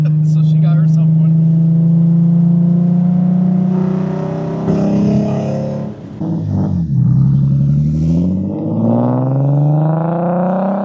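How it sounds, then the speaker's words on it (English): Nissan 370Z fitted with equal length headers and a new exhaust revs up loudly and close by, its engine note climbing and falling in steady sweeps, with a voice talking over it throughout. "I hope that new exhaust with the headers really like do wonders for the sound"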